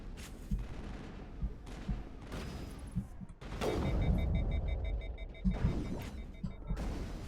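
Bursts of rapid, quickly overheating gunfire from a gun in the video game Mass Effect crack in repeated volleys, loud and close, with brief pauses between and a heavier sustained barrage in the middle.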